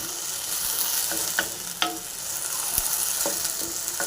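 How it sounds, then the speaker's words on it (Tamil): Masala frying in hot oil with popped mustard seeds for an egg curry-leaf masala, a steady close sizzle with scattered crackles and a few stirring scrapes, no talking. "மசாலா நல்லா ஃப்ரை ஆகட்டும்"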